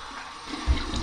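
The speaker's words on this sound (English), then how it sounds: "I'm going to go with my cold water rinse." Cold tap water runs and splashes in a brief, close rinse over a freshly shaved head, a short burst of gushing water with no voices.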